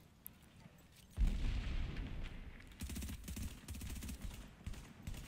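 Pistol fire from the Sentry's Call build in The Division, a dense run of rapid shots and booms that starts suddenly and keeps going, loud and busy, with faint speech in the mix.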